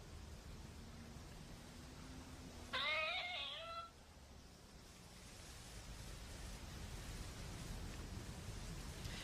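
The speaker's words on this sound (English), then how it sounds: "The cat going meow." A single cat meow, drawn out for about a second, sounds over faint steady hiss and low background noise.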